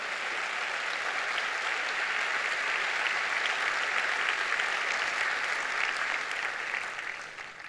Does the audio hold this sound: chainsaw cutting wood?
no